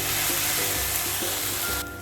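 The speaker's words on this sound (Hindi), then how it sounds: "डाल के इसे भी हमें भूनना है अच्छी तरह ऑनियन के साथ में" Ginger garlic paste frying with chopped onions in a pan, a steady close sizzle with soft stirring scrapes, no talking.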